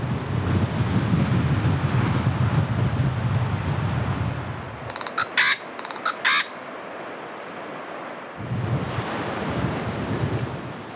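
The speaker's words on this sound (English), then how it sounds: "the wind gusts are pretty strong." Strong wind gusts sweep across a rocky outcrop at Guerilla Bay, with surf nearby. A loud, broad low roar fades to near quiet midway, broken by a few brief bird calls, before the gusts return.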